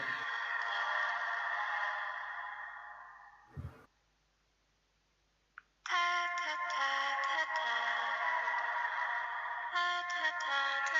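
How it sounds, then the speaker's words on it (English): A phone ringtone plays as a loud, sustained electronic melody close by. It cuts out for about two seconds, then starts again and runs to the end. "This is my ringtone."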